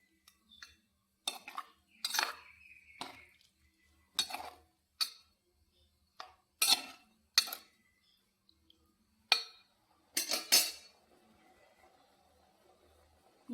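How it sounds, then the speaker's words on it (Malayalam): Fish curry with tamarind and curry leaves being stirred in a pot, giving scattered clinks and scrapes of a utensil against metal, some single and some in quick clusters, close and fairly clear over a quiet background. "ഇളക്കി കൊടുക്കുക"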